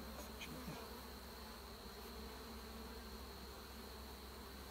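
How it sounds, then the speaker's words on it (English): Honeybees drone steadily at an opened, struggling hive during a frame inspection. A close, continuous buzzing hum holds for the whole span, with a few sharper near passes early on. "I think there's a bee under my finger."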